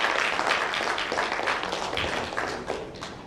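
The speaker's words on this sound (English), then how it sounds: "let's welcome Parvati with a huge round of applause" A conference audience applauds to welcome a speaker at a project management event, a brisk crowd of claps that fades gradually over a few seconds.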